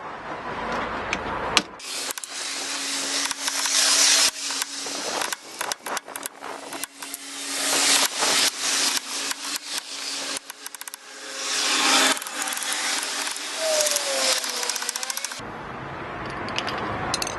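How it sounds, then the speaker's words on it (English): Screwdriver tapped upward to knock loose old rear brake parts on a Peugeot 207, a run of sharp metallic knocks and scrapes close by, irregular and loud over about fourteen seconds with brief pauses. "I'm just going to use a screwdriver and tap it all the way up."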